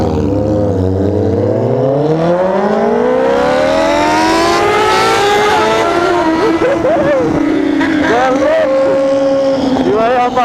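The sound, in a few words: Honda Hornet motorcycle accelerating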